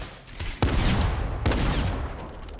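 Two heavy shotgun blasts in a Fortnite match, close and loud, about a second apart, each with a booming tail over constant game noise, no talking.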